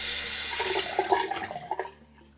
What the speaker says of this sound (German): gebt ihr einfach etwas Wasser wieder in euer Waschbecken